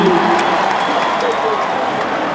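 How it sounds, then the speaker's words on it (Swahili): A crowd applauds and cheers at Madaraka Day celebrations as a parachutist lands, a dense, steady wash of clapping and voices filling the whole stretch, with a commentator's voice mixed in. "Tuongeze makofi wananchi"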